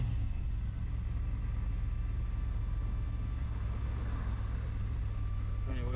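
Engine of a 1953 Mercury running steadily, a low continuous rumble heard from inside or nearby, fairly quiet and unchanging throughout, with a brief voice faintly at the very end.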